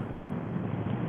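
Gusty Texas wind buffets the microphone outdoors on a dusty day, a loud continuous low roar without pauses.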